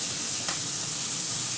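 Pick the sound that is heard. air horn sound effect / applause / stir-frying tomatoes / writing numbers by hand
stir-frying tomatoes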